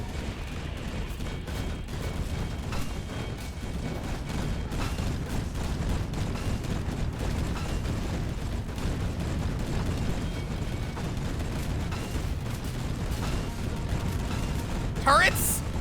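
Automated turrets in a roguelike video game fire continuously, making a dense, rumbling barrage of rapid shots and blasts that runs throughout, with a brief sharp electronic sound near the end.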